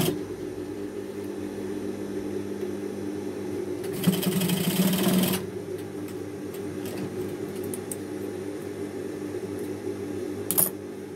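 A sewing machine stitches a jeans waistband in a single loud, fast burst of about a second, then stops, leaving a quiet room hum with a brief clack near the end.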